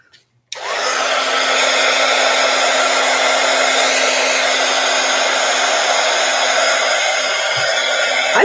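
A hair dryer switches on after a brief quiet moment and blows loudly and steadily up close, drying a handmade paper explosion box card with an even roaring whir.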